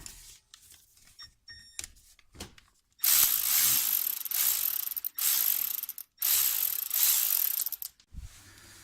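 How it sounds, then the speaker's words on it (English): Ratchet wrench loosening the bottom guide bolt on a Honda brake caliper: loud, close, rapid clicking in several long bursts separated by short pauses, with no voices. "So we're going to undo this bottom guide bolt right here."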